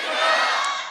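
A church congregation at a Sunday worship service shouts a response together in unison, a single loud sustained burst of many voices.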